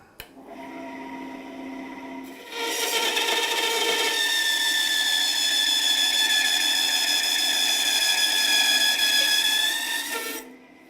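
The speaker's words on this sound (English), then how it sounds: "So we're just going to cross cut a bit of deep silver birch." A Record Power BS250 10-inch bandsaw idles, then bites into deep silver birch for a steady cross cut lasting about eight seconds, a loud whining rasp with harmonic tones, before the blade runs free again and spins down near the end.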